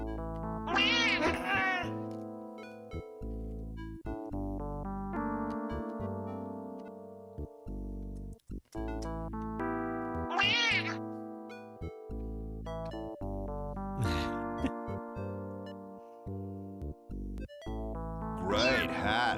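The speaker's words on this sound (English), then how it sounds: "There's the best kitty." A cat in the Leisure Suit Larry 3 retro game meows repeatedly, with several drawn-out, loud, harmonic cries spread over long stretches of game music and tones.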